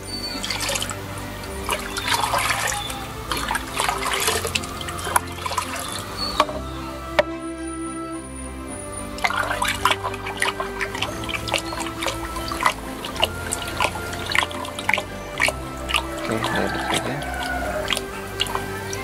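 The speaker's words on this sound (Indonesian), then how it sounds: "saya masukkan ke dalam 5 liter air" Concentrate being mixed into 5 liters of water for spraying curly chili plants: steady trickling and dripping of liquid with small splashes, close by and fairly quiet, with no talking.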